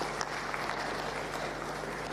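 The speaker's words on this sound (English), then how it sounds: "Give a round of applause for him" Audience applause at a technology conference in Tanzania, a steady, dense patter of clapping that holds at an even level for its full length over a low electrical hum.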